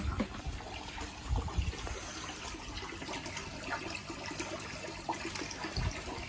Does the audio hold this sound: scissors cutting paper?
no